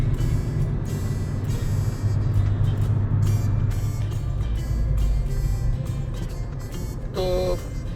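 A car merging onto a busy, slow-moving highway outside Perth, Western Australia, heard from inside the cabin as a continuous, fairly loud drone of engine and road noise that stays steady throughout.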